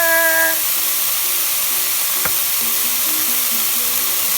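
Chicken fried rice ingredients fry in a pan with a steady, close sizzle and hiss that runs throughout, joined by a few faint tonal beeps and one brief click.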